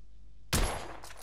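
A single loud gunshot from a weapon being test-fired in the video game The Order 1886, a sharp close blast after near silence, followed by a ringing decaying tail.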